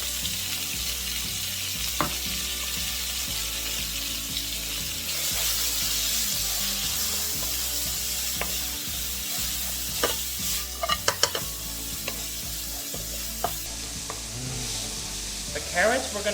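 Carrots fry in vegetable and sesame oil in a hot pan with a constant close sizzle, broken by occasional spatula scrapes and clatter, and a faint voice comes through briefly near the end.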